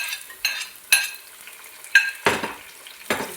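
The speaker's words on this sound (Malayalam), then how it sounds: "അപ്പോൾ അതിലേക്ക് നമുക്ക് അരിഞ്ഞ് വെച്ചിരിക്കുന്ന ആ ഒരു തക്കാളിപ്പഴം ഇട്ട് വെക്കാം." Chopped tomato is stirred into sautéed onions in a pan for chicken curry. About seven separate scraping strokes of a spoon, each with a short burst of sizzle, sound close up over a quiet background.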